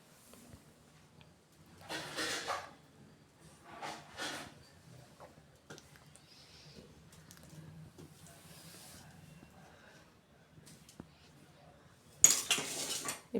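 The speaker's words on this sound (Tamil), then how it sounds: "இப்போ வந்து நம்ம இது மாதிரி நைஃப் வச்சு கீறி விட்டுக்கலாம்." A knife scoring peeled boiled eggs for an egg fry makes faint, scattered scraping clicks against the plate, followed by a sharper, louder clatter at the very end.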